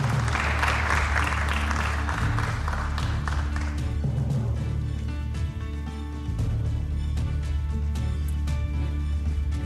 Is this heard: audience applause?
yes